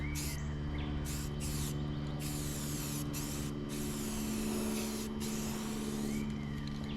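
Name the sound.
metallic spray paint being sprayed onto a car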